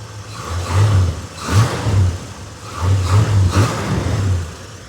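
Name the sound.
small block V8 engine revving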